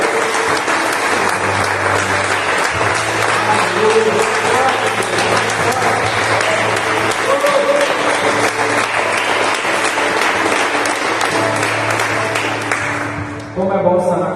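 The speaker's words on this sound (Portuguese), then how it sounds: "Que nós possamos dar uma salva de palmas para esse Jesus maravilhoso." A church congregation claps loudly and continuously for about fourteen seconds, dense, sustained applause filling a worship service, tapering off near the end.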